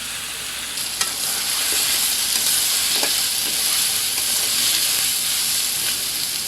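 Pre-fried crabs hiss and sizzle loudly in oily spice masala, with a steady broad crackle and a few scraping stirs of a spoon, up close and with no voices, for a Sundarban-style crab tel jhal.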